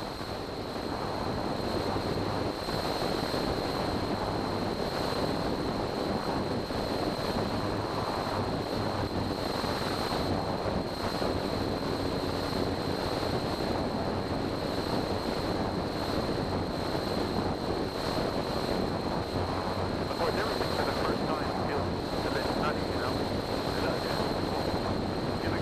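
Light plane cabin noise on a windy day crossing New Zealand's Southern Alps near Arthur's Pass: a constant loud engine drone and rushing wind, with a steady high tone running unbroken throughout.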